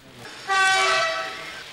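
A 1:87-scale model railway train plays its sound effects, a faint rolling hum followed by a loud horn blast that swells, holds about a second, then fades, with no talking.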